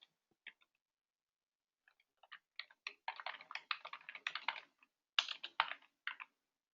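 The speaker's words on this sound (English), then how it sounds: "you can type the text here" Bursts of typing on a computer keyboard, starting with a few sparse taps and then quickening into rapid clicky runs with short pauses, close and fairly quiet with no talk.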